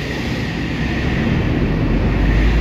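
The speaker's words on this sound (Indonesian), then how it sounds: "Ada kereta api lagi dari arah barat itu." Train pulling into Bekasi station from the west on the double-double track: a continuous deep rumble and rolling rail noise that grows slightly louder over a few seconds, heard alone with no voices.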